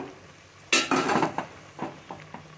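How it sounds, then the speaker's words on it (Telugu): Coriander leaves fry in a pan for a chicken dish, a spatula scraping and clinking against the metal in a few sharp strokes over a light sizzle, close and alone. "కొత్తిమీర బాగా వేగించండి కొత్తిమీర బాగా వేగింది"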